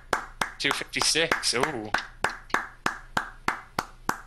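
Steady hand claps for a clapping game, about two per second, sharp and close, with a person talking and exclaiming over the first half before the claps continue alone.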